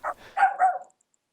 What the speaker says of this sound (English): my dog is losing his mind.